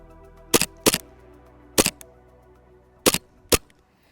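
An airsoft replica R603 pistol fires five sharp, loud shots close by: two fairly quick, a pause, one more, then two near together, each crisp crack standing alone over a quiet background.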